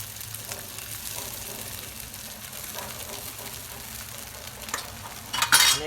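Poha being stirred into cooked potatoes in a pan for batata pohe, a steady scraping and light sizzle throughout, with sharper clinks of a utensil against the pan near the end.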